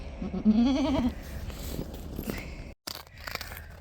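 A Nubian goat bleats from inside a car, a wavering cry close to the mic near the start, then quieter rustling and cabin noise.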